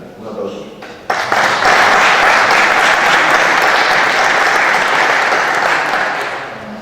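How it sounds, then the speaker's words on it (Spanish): A quiet room is briefly heard before a sudden burst of loud audience applause at an agriculture and livestock conference, sustained clapping from many people that slowly tapers near the end. "Un aplauso."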